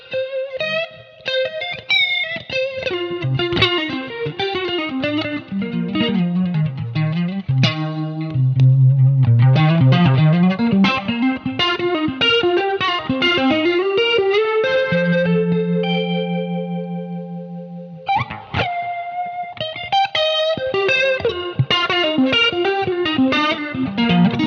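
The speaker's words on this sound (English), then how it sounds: "Really cool kind of Leslie Sim with the gorgeous chorus sound in it and vibrato as well." An electric guitar plays through a rotary reverb pedal set to a Leslie simulation with chorus and vibrato, producing swirling, shimmering single notes and sustained chords, loud and alone with no talk.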